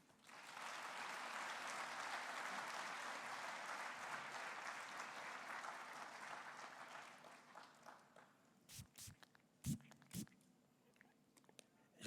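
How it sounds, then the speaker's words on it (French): Applause from the audience at the opening of a conference in Cocody, a broad wash of clapping heard from a distance that fades out after several seconds, followed by a few sharp knocks and handling sounds. "J'aimerais qu'on applaudisse encore une fois"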